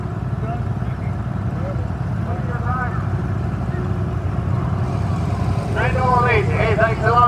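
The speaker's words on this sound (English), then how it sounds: "That's Hercules D4800 diesel engine in there, turbocharged, lots of power in there." A tractor with a turbocharged Hercules D4800 diesel engine rumbles steadily at a historical engine association parade, a low continuous drone under a voice talking over a loudspeaker, with other voices nearby near the end.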